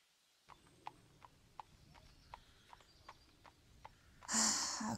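Horse hooves clip-clopping at a riding spot in the countryside, about a dozen evenly spaced hoof strikes at a steady walking pace, fairly near, ending with a loud breathy horse snort.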